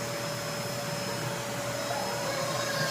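A vacuum cleaner runs continuously at close range, a loud steady whine and rushing airflow with no pauses and no voices.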